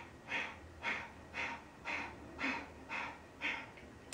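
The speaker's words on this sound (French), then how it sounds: "on appelle la respiration du feu ou Kapalabhati" Kapalabhati breath of fire breathing: sharp, forceful nasal exhalations repeat in a steady rhythm, about two per second, close and fairly soft.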